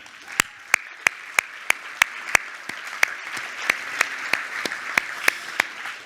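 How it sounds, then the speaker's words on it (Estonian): Applause at an investment festival: a small audience clapping in a steady rhythm of sharp, distinct claps, moderately close, over a soft background hum. "Teeme aplausi ka teile."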